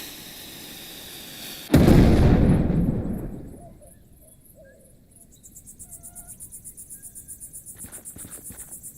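A sudden loud blast in the video game Rosewater bursts out and rumbles away over about two seconds, followed by quiet night ambience with steady, pulsing insect chirps.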